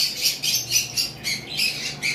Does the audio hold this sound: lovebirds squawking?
yes